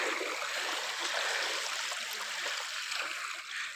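Fast floodwater rushes past flooded, ruined rice fields near Minchinabad, a loud, steady broadband roar of flowing water, close and continuous with no break.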